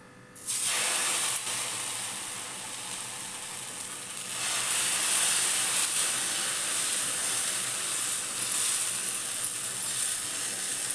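Rava dhirde batter sizzles steadily on an oiled pan over low gas, a continuous close hiss that jumps in after the batter goes on and swells louder midway, with no talk.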